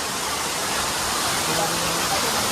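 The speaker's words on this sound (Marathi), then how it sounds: "खूप पाऊस खूप यायला लागलाय" Heavy rain falling on an outing near Dhareshwar temple in Satara, a loud, steady, dense hiss with brief faint tonal sounds buried in it.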